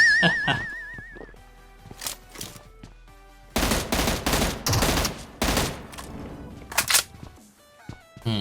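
Loud bursts of PUBG Mobile gunfire in Metro Royale mode, scattered single shots early on, then dense rapid volleys in the middle and a few more blasts near the end.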